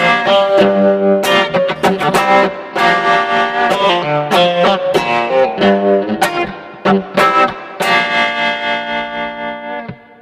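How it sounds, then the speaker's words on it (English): An electric guitar fed through reverb on a Boss RC-600 loop station plays loud, distorted chords and picked notes in a steady rhythm, with each attack trailing into a washy tail. "Effect 4, reverb."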